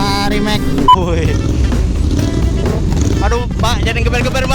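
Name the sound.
motorcycle engine revving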